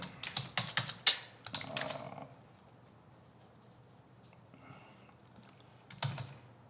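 Computer keyboard typing code for a Project Euler problem, a quick burst of close key clicks, then a pause and a few scattered keystrokes.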